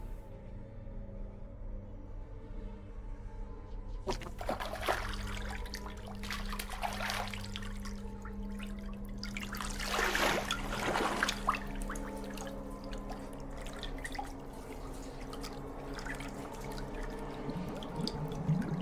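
Bath water trickles, drips and splashes in a bathtub in the horror video game Visage, a steady watery wash with low rumble and a few louder sloshes, no voices.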